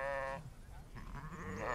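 Sheep bleating on a ranch where the herd grazes knapweed, one clear tonal bleat up front followed by softer bleats and low background rustle.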